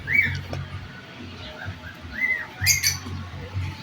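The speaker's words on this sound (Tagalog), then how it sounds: "Ay, naada yung mga bird dere oh." Small birds in a garden aviary give short, thin chirps and tweets over a low rumbling background. The calls are scattered and moderately close.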